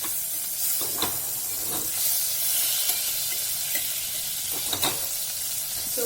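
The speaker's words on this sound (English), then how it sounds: "So once the butter melts, we'll wait for the butter to melt." Butter melting in a pan for pepper pasta, giving a steady close sizzling hiss with a few faint clicks and scrapes of a utensil, no voices.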